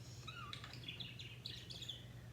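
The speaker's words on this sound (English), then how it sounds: "And the bird's gonna yell," A pet bird calls in a series of short, bright chirps and tweets, fairly faint indoors over a steady low electrical hum, with no talking.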